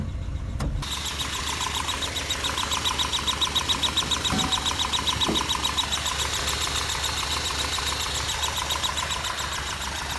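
A 1975 Lancia Fulvia engine with its airbox removed starts abruptly and settles into a loud, rhythmic idle with a lumpy, pulsing beat and a couple of brief mechanical clunks.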